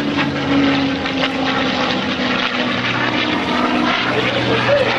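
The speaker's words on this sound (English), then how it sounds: "Now listen to the sound of the T-51." A T-51 propeller warbird flies low at an airshow, its engine a loud, steady droning roar that holds throughout without a break.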